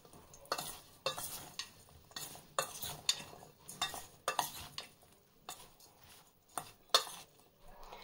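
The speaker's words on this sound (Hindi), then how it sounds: "उसके बाद इन मसालों को हम इस मिर्चों के साथ अच्छे से आपको मिक्स करना है।" Green chillies being mixed with ground spices for pickle in a metal bowl, a spoon scraping and clinking in repeated rhythmic strokes, close and fairly quiet, with no talking.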